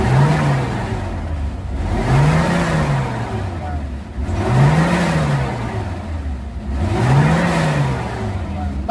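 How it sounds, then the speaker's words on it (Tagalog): A Mitsubishi Adventure engine with an RPM gauge problem is revved repeatedly, four rising and falling surges of growling pitch in a regular rhythm, with a voice talking over it. "kumbaga nakaandar na yung makina."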